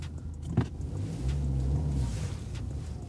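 An Alpina D3 Bi-Turbo drones steadily through a low drift, engine note holding under a brief thump, with no talk over it.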